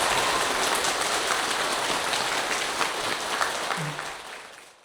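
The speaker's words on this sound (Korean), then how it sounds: "여러분께 감사의 박수 한번 보냅니다" A Dharma-hall audience at a Saturday evening temple lecture claps in a dense, even round of applause that fades out toward the end.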